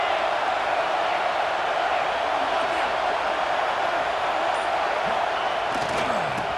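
Stadium crowd at a college football game with Georgia on offense, a dense, steady roar of many voices filling the space, loud and sustained with a few faint sharp knocks near the end.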